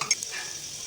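Vadas frying in hot ghee in a kadhai, a close, short burst of sizzling with a couple of quick bubbling pops at the start before settling into a steady soft hiss.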